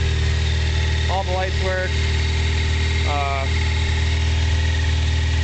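A 1985 Yamaha FZ750 motorcycle engine idles steadily after a cold start, a loud close-up drone that runs throughout while someone talks over it.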